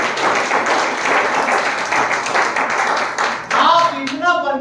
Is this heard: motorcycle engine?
no